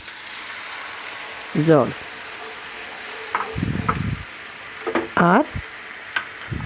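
Small new potatoes fried and stirred in a pan for aloo dum, a continuous soft sizzle broken by a few scraping stirs, with someone talking over it.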